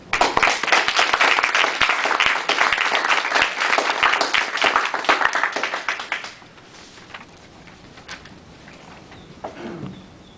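Audience applause welcoming speaker Richard Charnin at a PDA event: dense, loud clapping for about six seconds that then fades to a quiet room with scattered low noise.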